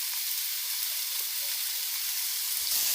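Fish frying with turmeric and Kashmiri chili powder, a steady close sizzle running the whole time with a few light stirring scrapes near the end.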